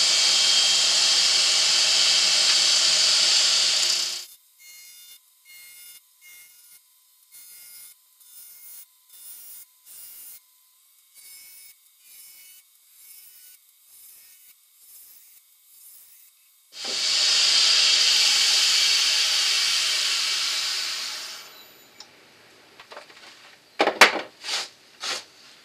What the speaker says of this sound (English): with the lathe running fairly quickly, face shield on, and we can start making the blank round